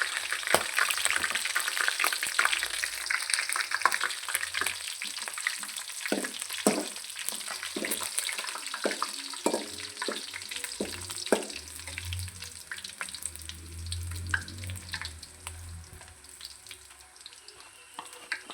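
Red Byadagi chillies fry and sizzle in a pan with a steady crackle, joined by clinks and scraping stirs toward the middle, close and fairly loud with no talking.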